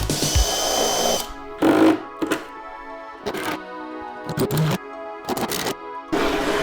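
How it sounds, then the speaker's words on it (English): Power drill pre-drilling plywood for a DIY kicker ramp, several short whirring bursts broken by pauses, close and fairly loud. "let's go ahead and pre-drill this."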